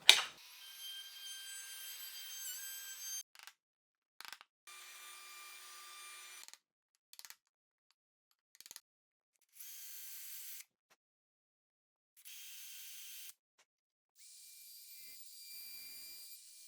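A router cuts wood for bed rail hardware in a series of short, separate high-pitched bursts of whine, spaced by silences and fairly quiet.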